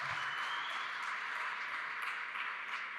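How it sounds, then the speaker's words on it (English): Audience applause after a tech talk, a dense, steady wash of clapping at constant level for about three seconds with no voices over it. "Round of applause."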